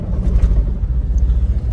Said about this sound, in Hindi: गाड़ी के अंदर से इंजन की आवाज़ आ रही है